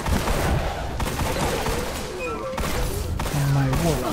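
Sidearm gunfire in Destiny: The Taken King crackles as rapid, overlapping shots under game sound effects, with a few tonal chirps near the end.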